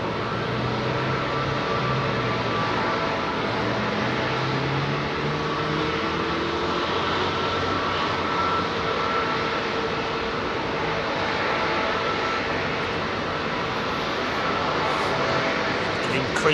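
An Airbus A320neo engine at Heathrow Airport gives a steady, loud broadband roar that holds for the whole stretch, with voices talking over the drone.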